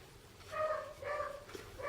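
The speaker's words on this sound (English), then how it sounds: "Oh my God, that dog." A dog gives a string of whiny, high-pitched yelps and whimpering barks, several in under two seconds, over a steady background hiss at moderate distance.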